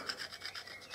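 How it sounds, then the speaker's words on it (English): A tungsten gasket scraper rasps in short, rhythmic strokes against a metal gasket surface while an S&S air filter kit goes onto a 2014 Harley-Davidson Electra Glide, each scrape close and fairly quiet with brief pauses between. "Just lightly with your gasket scraper,"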